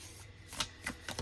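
Illuminated Earth Oracle cards being overhand shuffled, a few quick soft riffling bursts of papery flicks, close and quiet.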